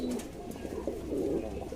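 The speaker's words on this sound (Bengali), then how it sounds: "ইয়েলো আমেরিকান মেলটা খুব অ্যাক্টিভ, অল টাইম ডাকে।" A yellow American fantail pigeon in a loft coos softly and repeatedly, a low murmuring call that carries steadily through the short stretch with no talk.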